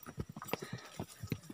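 Horse hooves clip-clop in a quick, uneven rhythm during horseback riding, each hoof strike close and distinct over a faint outdoor background.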